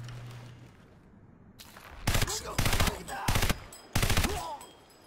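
A turret machine gun fires in Crysis Warhead, four loud close bursts in quick succession after a quieter stretch of game ambience.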